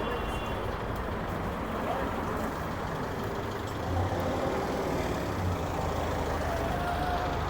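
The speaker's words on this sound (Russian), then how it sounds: "Петербург все-таки шумный город." Steady Saint Petersburg street traffic, with trucks and buses passing, rumbles continuously at moderate distance, and faint voices can be heard under it.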